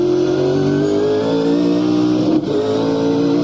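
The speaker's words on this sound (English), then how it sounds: "Awesome sound of that Caterpillar Ford." Caterpillar-sponsored Ford V8 Supercar racing at Queensland Raceway in the 2000 Shell Championship Series: a loud, sustained V8 engine roar held at high revs, with a brief dip near the end as it passes close by.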